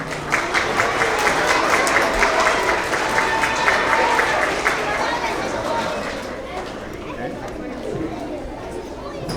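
A crowd at an elementary school award assembly applauds steadily, clapping strongly at first and then thinning out, with chatter mixed underneath.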